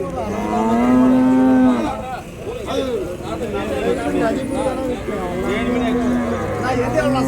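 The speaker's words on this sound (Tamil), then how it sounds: "அந்த பக்கம் ஒரு காளை" Cattle mooing at the Vaniyambadi cattle market: long, low, drawn-out moos near the start and again toward the end, set against a busy background of market chatter and crowd noise.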